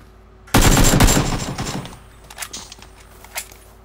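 Video game gunfire in PUBG comes as a sudden loud burst of rapid automatic shots, followed by a few scattered fainter shots and clicks.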